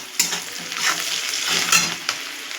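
Onions frying in a pan with salt, white sesame and poppy seed paste nearby, a loud, continuous close sizzle with scraping stirs and a few sharper spatula knocks.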